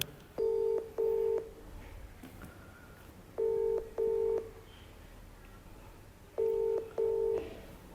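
A phone call ringing out on a mobile handset: three pairs of steady ringback tone bursts separated by quiet gaps, with faint background noise and no talk.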